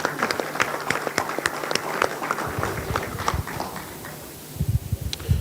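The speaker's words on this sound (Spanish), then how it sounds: "Un fuerte aplauso, por favor," Scattered applause from an audience at a conference talk, sparse individual claps standing out in an uneven rhythm, fairly close, with a few heavier thumps toward the end.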